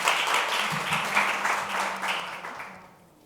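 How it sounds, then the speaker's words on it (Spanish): An audience at a round-table panel applauds in a dense, steady burst of clapping that carries on evenly, then tapers and fades out near the end. "Un aplauso."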